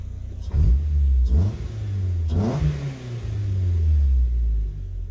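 A warmed-up car engine with a 72mm billet throttle body revs in three quick blips, rising and falling, then holds a longer rev that slowly settles, loud and close with a deep rumble.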